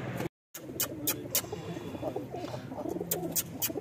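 A purebred pigeon coos softly in low, repeated throaty notes, with faint clicks and other small background sounds around it and a brief gap of silence near the start.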